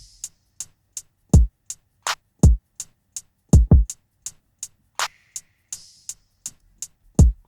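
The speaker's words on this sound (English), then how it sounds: "So the drums sound like this." A drum beat programmed on a PreSonus ATOM SQ in Studio One 5 plays alone: crisp hi-hat ticks keep a steady pulse while booming kicks land at varied points and a snare cracks through, loud and dry.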